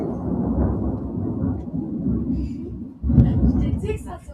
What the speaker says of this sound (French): Ouf, on a le tonnerre avec nous.